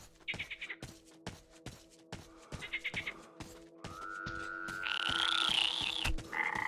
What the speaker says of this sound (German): Wir versuchen jetzt keinen Frosch zu zertreten.